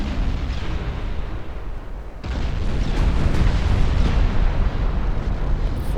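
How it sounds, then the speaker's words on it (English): Continuous heavy gunfire from 5-inch naval guns in the Ultimate Admiral Dreadnoughts naval battle game, a dense rumbling barrage of booms that swells louder partway through and keeps pounding without pause. "5-inch guns are opening up."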